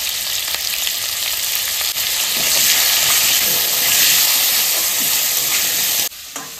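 Turmeric and spices hit the tempering oil in a pan and set off a loud, steady sizzle that holds close and continuous for several seconds, then cuts off abruptly near the end.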